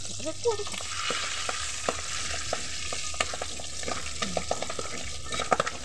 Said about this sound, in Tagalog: Pag nagpiprito.